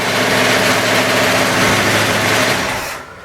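A junkyard V8 engine idles loud and close with a steady, even drone, then cuts off abruptly near the end, leaving quiet.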